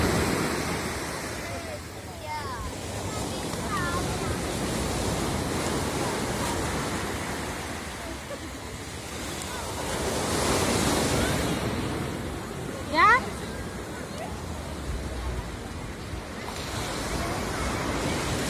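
Sea waves roll in and break on the beach at Ponnani, a loud, surging roar swelling and easing in long cycles with wind buffeting the microphone and a few distant voices.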